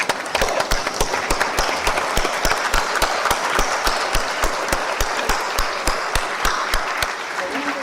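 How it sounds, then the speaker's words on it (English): An audience at a national tax conference in Jaipur applauds, a dense sustained wash of clapping with distinct sharp claps close by, steady for several seconds. "give a big round of applause and a standing ovation to our guest"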